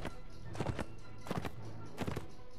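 Horse hooves clop in short grouped beats in Mount & Blade: Warband, three quick bursts of hoofbeats over a steady battle ambience.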